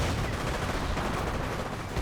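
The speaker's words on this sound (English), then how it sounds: "Does get some hits on the mortar half track. 2 hits. Ooh, great mortar hit there." Dense gunfire and mortar fire in Company of Heroes, with rapid overlapping shots and booms as a mortar half-track is hit, loud and continuous throughout.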